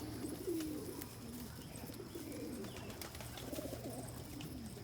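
Pigeons cooing in a backyard, soft repeated low throaty coos close by, rising and falling in gentle phrases over faint outdoor background noise.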